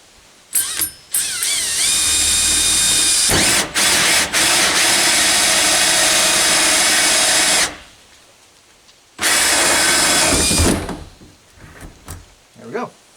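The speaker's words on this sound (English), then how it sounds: "a hole saw cuts a fairly clean hole" A loud power drill grinds steadily through a wall with a hole saw, stopping briefly, then a second shorter run before it winds down, close by.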